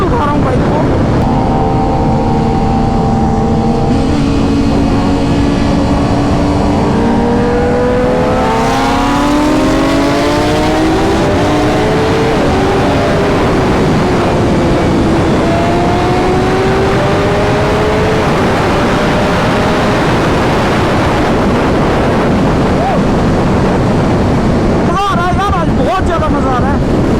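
A BMW S1000 RR superbike roars at high speed in sixth gear, its engine note loud and sustained with rising and falling pitch as the rider accelerates, heavy wind rush constant throughout.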